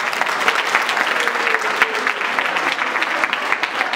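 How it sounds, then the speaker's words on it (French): A church congregation at a Sunday service applauds loudly and continuously, a dense, even clapping from many people throughout. "Est-ce qu'on peut acclamer le Seigneur?"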